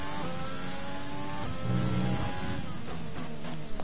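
Race car engine in F1 2020 at the Brazilian circuit, a close, high-pitched whine that revs up and down through gear changes, with no voices over it.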